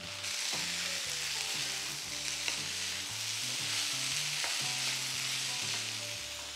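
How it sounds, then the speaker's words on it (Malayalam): Sabudana (sago pearls) and a peanut mixture stirred in a hot frying pan, a continuous bright sizzle with rhythmic scraping strokes throughout, fairly quiet and close, no voices. "ഇതിലേക്ക് നമുക്ക് സാബുദാന ചേർക്കാം, ചൗവരി ചേർക്കാം. ഒപ്പം തന്നെ ഈ കപ്പലണ്ടിയുടെ മിക്സറൂടെ ചേർക്കാം."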